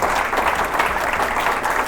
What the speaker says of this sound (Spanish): si va a aplaudir, aplaudan más fuerte